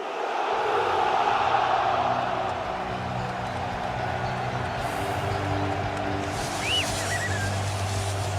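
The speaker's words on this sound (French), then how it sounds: "Je vous demande d'applaudir" Large stadium crowd at Paris Saint-Germain's new player welcome for Gianluigi Donnarumma, a steady distant roar of cheering and applause filling the arena, with faint voices and a brief whistle rising over it.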